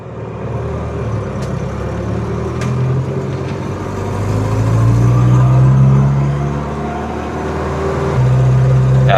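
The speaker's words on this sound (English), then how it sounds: "we're gonna go on a quick test drive here" A 1962 Pontiac Tempest on a test drive, its engine droning steadily from inside the car with rising and falling revs and road rumble, loud and close, with no talking.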